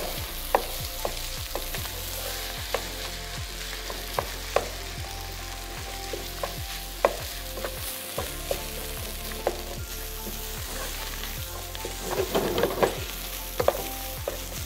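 Boiled rice is stir-fried on high heat with a splash of vinegar, making a loud, steady sizzle with a regular rhythm of spatula scrapes against the pan throughout and no voices.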